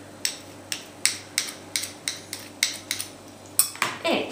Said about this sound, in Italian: E continuo a mescolare bene.